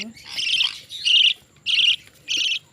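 Budgerigars chirping at a nest with three chicks, four bursts of bright, rapid chirping and chatter in quick succession, close and fairly loud.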